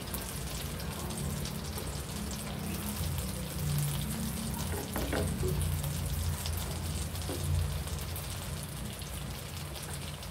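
Butter melting in a pan gives a steady, rain-like crackle and sizzle throughout, with a few sharper pops, moderately loud and without any talk.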